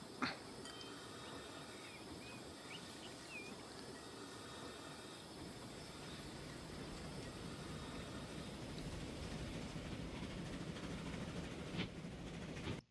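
Freight and passenger trains run in the Transport Fever video game, giving a faint, steady rail rumble with soft clattering that builds slightly over time and cuts off abruptly at the end.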